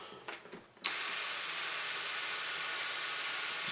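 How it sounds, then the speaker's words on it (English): A power drill starts after a few light handling knocks and whines at a steady high pitch while boring through a small hole to attach a Riddell Strap-Loc. "you're just going to drill through this little hole"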